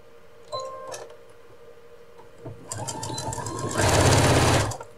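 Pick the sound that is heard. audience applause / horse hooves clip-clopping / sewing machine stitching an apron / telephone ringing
sewing machine stitching an apron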